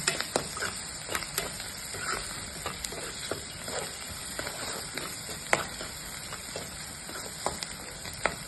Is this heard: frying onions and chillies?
yes